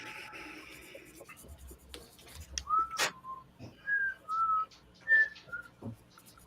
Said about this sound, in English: whistling our theme song